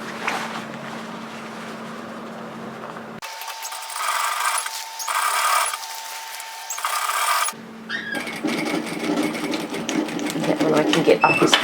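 A sewing machine runs in short bursts while it stitches the facing of a tailored vest. A speaker's voice is heard between the runs and over them.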